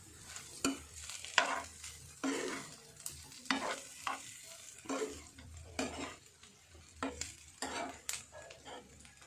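Beef fry (pothirachi varattiyathu) being stirred in a pan, with repeated scraping strokes of a spoon against metal over a steady close sizzle, about a dozen uneven strokes with no talk.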